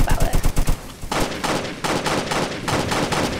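Rapid burst of gunfire in the Roblox Jailbreak video game: a quick run of sharp, loud, evenly spaced shots at the start, followed by denser, noisier in-game action sounds.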